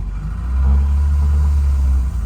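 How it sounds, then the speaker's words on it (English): An old Vauxhall Viva found in a barn revs its engine, a loud close low rumble that swells after half a second and holds steady before easing off near the end. "Oh, some revving."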